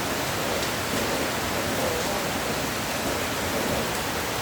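Heavy rain pouring down in front of a house, with water streaming off the roof; a dense, constant hiss of downpour, close and unbroken throughout, with no voices.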